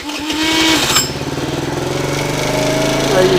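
A Taotao ATM 50 A1 50cc scooter engine cranks with a few quick stutters, then catches and settles into a steady, loud, buzzing idle close by.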